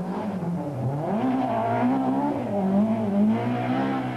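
Rear-wheel-drive BMW M3 E30 rally car on the Sanremo Rally in 1989, engine rising and falling in pitch as it accelerates and shifts, loud and close throughout.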